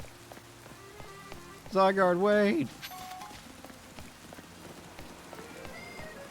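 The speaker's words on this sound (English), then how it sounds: "It's also raining." Steady rain falls in Pokémon Legends: Z-A, an even wash of patter throughout, briefly overlaid by a loud shouted line near the start.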